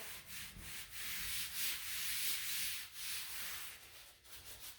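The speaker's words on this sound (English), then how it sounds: "And now I'm going to continue wiping this side of the table." Steady wiping and rubbing of a table surface with aesthetic wipes, a continuous soft scrubbing hiss with rhythmic back-and-forth strokes, close and fairly quiet with no talking.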